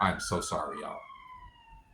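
A police siren wails steadily in the background, its sustained tone running beneath and after a person speaking briefly.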